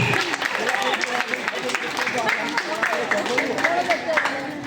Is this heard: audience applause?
yes